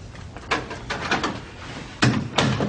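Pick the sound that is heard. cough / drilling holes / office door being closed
office door being closed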